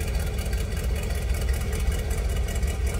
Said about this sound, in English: just a nice rumble in the side exit of the exhaust right there